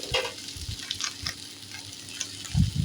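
Prawn and potato curry ingredients sautéing in a pan, a soft continuous sizzle with a few stirring scrapes, louder bursts near the end, no voices.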